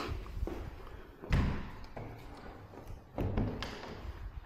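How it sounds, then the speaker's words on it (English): Two dull thuds of fireplace doors being shut, a few seconds apart, over a steady rumbling background noise of wind. "I'll come over here and I'll shut the doors."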